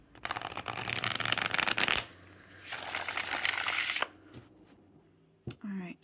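Tarot cards shuffled in two long, dense, close riffles, followed by a soft tap and a short rustle.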